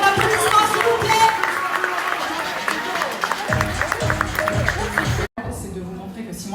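Audience in a Paris hall applauding, sustained clapping under crowd noise that thickens partway through, then a sudden brief dropout before the clapping and murmur carry on more faintly.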